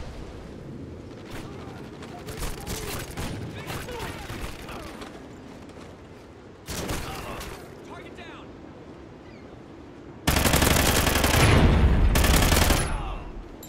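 Gunfire in the video game Call of Duty: Ghosts: rapid bursts and single shots crackle at moderate loudness, with louder volleys near the middle and end, over a constant low game rumble.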